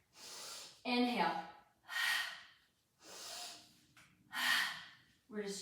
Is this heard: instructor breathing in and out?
yes